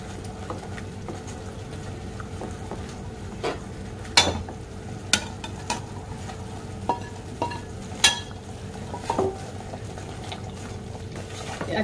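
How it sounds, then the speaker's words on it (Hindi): A spoon stirs cream into malai soya chaap simmering in a pan. Sharp scrapes and knocks against the pan sound at irregular intervals over a soft, steady bubbling sizzle, close and fairly quiet. "अच्छी तरह से मिक्स करेंगे।"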